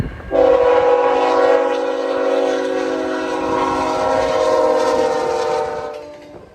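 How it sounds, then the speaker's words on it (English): An intermodal freight train passes with a long, loud, steady multi-tone horn blast lasting several seconds, close by, with rail rumble underneath, then the horn stops. "The third time happened at Saferoad in Safford, when 3236 pulled an Intermodal train."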